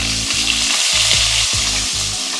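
Onions frying loudly in a pan, a dense steady sizzle with rhythmic low scraping strokes from stirring repeating about every half second, close up and with no voices.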